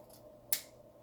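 A single crisp snip of scissors cutting paper while assembling a birthday gift, one sharp close click standing out against quiet room hiss.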